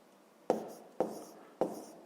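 Three crisp, evenly spaced strokes of a pen or pencil on paper as numbers are written by hand, close and quiet with faint room hiss between.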